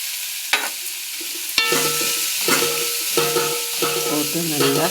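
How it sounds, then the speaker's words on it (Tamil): Onions sauté in a pan with turmeric and homemade chili powder: a steady loud sizzle with repeated scraping stir strokes of a spatula against the pan, close up and uninterrupted by talk. "நல்லா வதங்குது."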